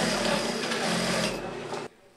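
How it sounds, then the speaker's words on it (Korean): Sewing machines stitch cloth face masks in a volunteer workroom, a steady dense whirring hum that runs close and continuous before cutting off abruptly near the end, with a narrator's voice over it. "자원봉사자 30여 명은 이곳에 매일 모여 이렇게 재봉틀로 직접 마스크를 만들고 있습니다"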